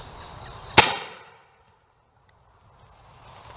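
Single sharp gunshot from a Remington Baby Rolling Block rifle firing a Webley bullet outdoors toward a hill, one loud crack that decays quickly into quiet, with faint insect or ambient noise before and after.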